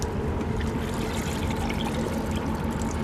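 A water sample being poured into a container outdoors in Terra Nova National Park, a soft continuous trickle and splash heard close up and fairly quiet, with no talking.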